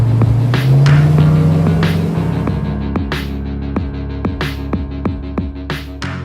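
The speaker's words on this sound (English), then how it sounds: "It is a loud, hard, brutish American muscle car." A 1968 Dodge Charger R/T muscle car engine idles loud and close, a deep throbbing rumble that rises briefly in pitch at the start, then settles into a steady lopey burble with rhythmic pulses.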